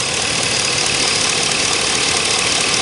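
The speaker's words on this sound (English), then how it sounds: "Little stumble and idle." Loud, close rumble of a lifted pickup truck engine idling roughly, a constant dense drone with slight uneven stumbling and shaking throughout.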